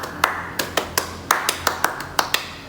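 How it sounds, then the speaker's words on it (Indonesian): A Pramuka scout clap pattern performed in a rhythmic sequence of about a dozen sharp, close hand claps, evenly spaced with brief groupings, crisp and loud with no talking. "ini adalah tepuk pramuka"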